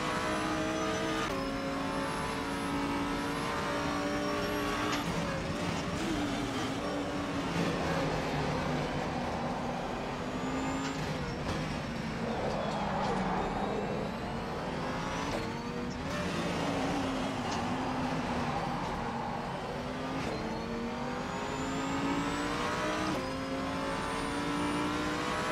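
A GT3 race car in a racing video game, cornering on the Istanbul circuit, its engine droning continuously and rising and falling in pitch through the turns, loud and steady with faint tire noise.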